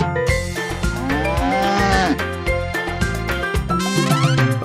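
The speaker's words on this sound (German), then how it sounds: "Mit Mumu hier und Mumu dort, hier ein Mu, dort ein Mu, überall ein Mumu." Cows moo repeatedly within a German-language children's farm song, long voiced lowing calls sung over a bright musical backing of bass and melody.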